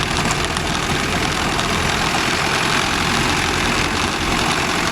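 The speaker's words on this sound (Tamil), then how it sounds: "டோர் சவுண்டு பார்த்தீங்களா? கலகலன்னு வருது." A Mahindra Arjun Novo 605 tractor works farmland with a rotavator, its rotor rattling under the loud, steady, close roar of the engine throughout without pause.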